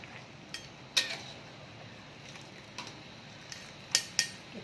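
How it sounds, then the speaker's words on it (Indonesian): Metal utensils clink sharply against a pot a few times while boiled carrots for a vegetable pecel are lifted out and drained, scattered knocks over a faint wet background with no talk. "Kita angkat, kita tiriskan ya."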